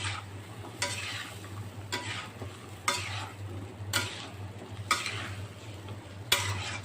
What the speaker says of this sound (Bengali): এবার আমি সবজিটা কিছুক্ষণ ঢেকে ভালো মতো করে কষাবো।